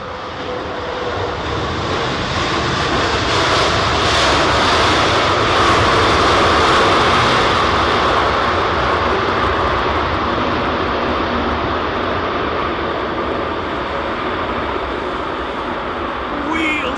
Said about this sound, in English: This is WestJet's 787 in from Calgary